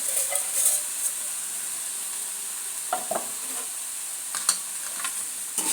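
Semolina being stirred into a pan with softened carrot, onion, ginger and green chilli, a steady faint sizzle with occasional scraping strokes of the spoon, close and alone.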